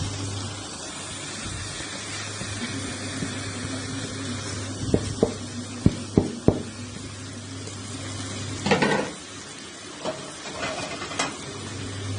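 Rice tipped into a hot pot hisses and sizzles steadily for Egyptian spiced rice, with a few sharp clinks and scrapes of stirring over a constant low kitchen hum.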